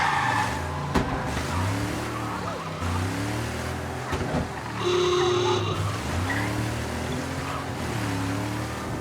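Engine of a car in the video game Mafia revving and shifting as it drives, with tire squeals as it slides through turns, loud and continuous with rising and falling engine pitch.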